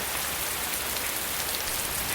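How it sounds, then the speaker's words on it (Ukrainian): Late-autumn downpour over a Ukrainian village garden: an unbroken, even wash of heavy rain drumming on surfaces nearby, fairly loud and continuous, with no talking. "Дощ, дощ, дощ. Небо ніби прорвало."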